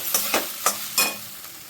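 Chopped tomato and peas fry in oil in a hot kadhai, giving a close, steady sizzle broken by four quick scraping stirs, with no talking.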